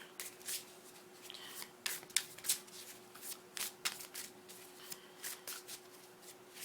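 Tarot cards being shuffled by hand during a reading, a close, papery riffle and flutter in repeated short bursts that rise and fall, with no talk over them.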